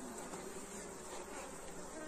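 A honey bee swarm buzzes steadily at a hive box, a continuous dense hum of many bees at low level with no pauses.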